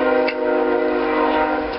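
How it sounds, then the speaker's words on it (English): A train sounds its horn near a backyard in eastern Arkansas at noon, a loud, steady, sustained tonal blast held for the whole moment. "There's that train."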